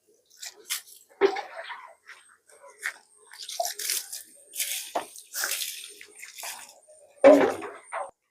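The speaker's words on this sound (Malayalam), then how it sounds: "നമുക്ക് വെള്ളം കൊണ്ടൊന്ന് കഴുകിയെടുക്കാം" Water splashes and sprays in irregular bursts against a scooter's body while rinsing off soap suds, with drips and wet slaps between spurts, close by.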